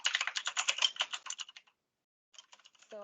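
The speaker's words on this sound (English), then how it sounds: "use Control Find on my keyboard, which is just clicking Control F" Rapid, close keystrokes on a computer keyboard rattle for over a second, pause, then resume briefly at the end.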